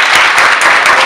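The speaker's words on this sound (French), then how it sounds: "applaudissez pour vous." A school excellence-awards audience applauds, with dense, loud clapping filling the whole short moment without a break.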